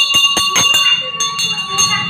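Temple bell at a Maa shrine in a village, struck in a quick run of bright metallic clangs with ringing overtones, a pause, then a few more strikes, with voices under it.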